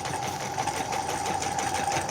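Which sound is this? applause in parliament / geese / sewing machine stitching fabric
sewing machine stitching fabric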